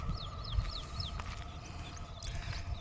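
Repeated high bird chirps in a jungle over a constant outdoor hum and low rumble, the calls light and fairly distant.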